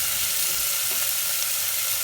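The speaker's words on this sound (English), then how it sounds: "Into which the chopped onion, give a little stir" Chopped onion sizzling in a pan as it is stirred, the start of a Gujarati moong dal, a brief, steady close-up frying hiss with no talk.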